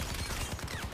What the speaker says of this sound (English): Volley of rockets in the direction you're aiming. When the rockets explode, they also damage nearby enemies.